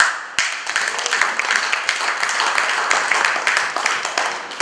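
Applause and clapping from an audience at the launch of an enhanced e-passport by a Nigerian interior minister, a steady dense patter of many hands that stays fairly loud throughout.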